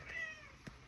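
A pet cat named Bonita gives a short, close meow indoors, with a faint tonal hum underneath and no talking.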